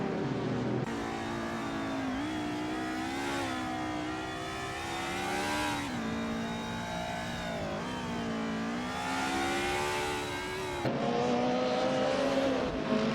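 Race cars in a video game race during the closing laps, engines droning and whining steadily with shifting pitch as they accelerate and pass, loud and continuous throughout with no talk.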